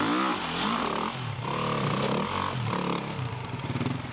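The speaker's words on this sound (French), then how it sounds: "lorsque je vais libérer mon embrayage et accélérer" An enduro motorcycle revs hard as the clutch is released for traction over an obstacle, the engine note rising and falling in close, loud surges with some scraping clatter.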